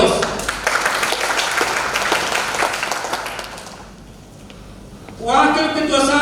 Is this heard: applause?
yes